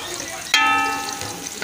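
Onion and green chilli fry in a pan with a soft continuous sizzle, broken by one sharp metallic clang of a utensil on the pan that rings briefly before fading, close by.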